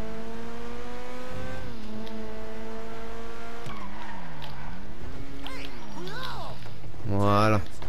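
A car engine in a French-language heist video game hums with shifting pitch as the vehicle drives, dipping and rising with the throttle, then revs sharply near the end.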